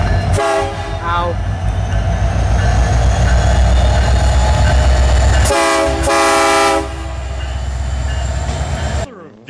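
Union Pacific 8513 locomotive horns blast loud and near in two long bursts over the heavy rumble of the train.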